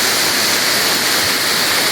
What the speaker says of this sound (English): The height of this waterfall from the top ledge that you can see here